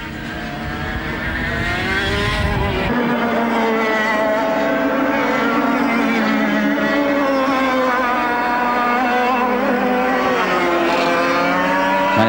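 Racing karts at the 1995 FIA European Karting Championship in Mariembourg, Belgium, including a CRG and a Fullerton kart, scream past on the track with loud, sustained high-revving engines that shift pitch as they brake and accelerate, no voices over them.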